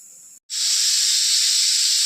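A pressure cooker cooking rice lets out steam, a faint hiss that breaks off briefly and then becomes a loud, steady, close rushing hiss.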